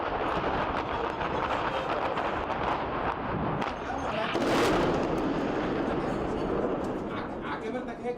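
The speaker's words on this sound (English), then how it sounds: "The Syrian army is heavily striking the terrorists' positions here." Artillery and gunfire strike militant positions in Aleppo, Syria, as a dense, continuous roar of distant shelling and rattling shots with a louder blast near the middle.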